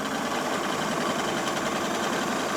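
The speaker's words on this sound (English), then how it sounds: "now I can put my speed of my sewing machine a bit higher and just go all the way around" A domestic sewing machine runs continuously at a fairly fast speed while stitching a fabric scrunchie, its motor producing a steady, close mechanical whir with a rapid rattling texture and no talk over it.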